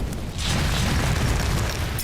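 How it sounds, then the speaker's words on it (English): A fireball explosion tears through a tower in the VR game Waltz of the Wizard, a loud sustained roaring boom that swells after a brief start and rumbles on without pause. "grow a fire in your hand and destroy your tower"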